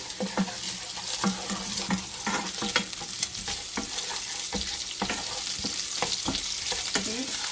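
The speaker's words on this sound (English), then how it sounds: "So I want the ginger and garlic to cook through with the onion." Ginger garlic paste sizzles and fries alongside sautéed onions in a pan, a steady hiss broken by repeated scraping stirs of a utensil, close and with no voices.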